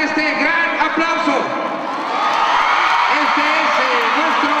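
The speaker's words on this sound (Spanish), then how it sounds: "vamos a darle este gran aplauso" A taekwondo crowd at the World Taekwondo League cheers and applauds champion Idulio Islas after his final-round bout, with a steady roar of clapping and shouts beneath a loud announcer's voice.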